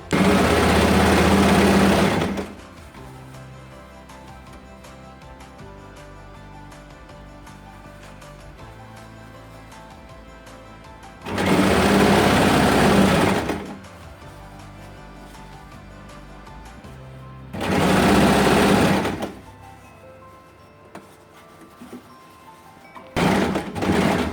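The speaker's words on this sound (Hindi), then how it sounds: "नीचे तक पूरे में सिलाई लगा देंगे" A sewing machine stitches fabric along the neckline of a kurti in three loud, sustained whirring bursts, each lasting a few seconds, separated by quieter pauses with light handling sounds.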